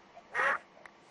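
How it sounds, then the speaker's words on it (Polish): A single loud video-game duck quack sounds once, clear and close, followed by a faint short blip. "Kaczka!"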